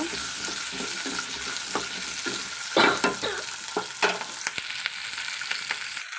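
Onions fry in a pan for sambar under a continuous close sizzle, broken by intermittent scraping and knocking of a spatula stirring against the pan.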